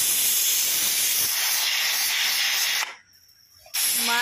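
Steam hisses loudly and steadily from a pressure cooker whistle, a broad continuous rush that cuts out briefly near the end, then bursts back in at full force.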